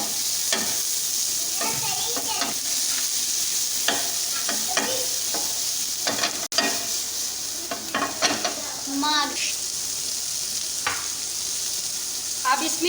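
Onion sizzles and fries in a preheated pan while being stirred for gola kabab, a steady close crackle broken by scraping stirs and occasional clinks of utensil on pan.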